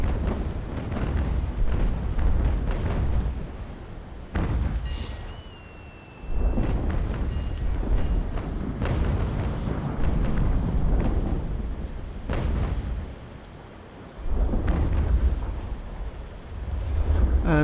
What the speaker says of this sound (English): Firing off bow chasers.